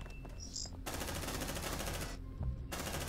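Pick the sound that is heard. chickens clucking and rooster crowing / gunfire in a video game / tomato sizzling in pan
gunfire in a video game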